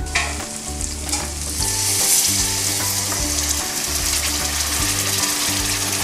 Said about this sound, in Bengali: পরিমাণ মতো অল্প অল্প করে জল মেশাচ্ছি